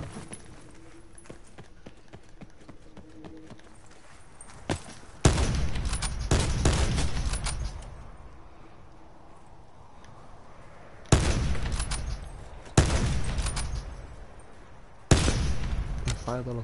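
Several bursts of rapid gunfire from a game, loud and clustered, separated by quieter stretches with faint background sounds.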